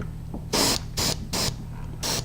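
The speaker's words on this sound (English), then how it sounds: "I'm just basically being very careful where I spray it." An airbrush spraying thin paint at about 20 psi onto a 1/32 scale F/A-18D Hornet model, four short bursts of hiss close to the mic with brief pauses between them.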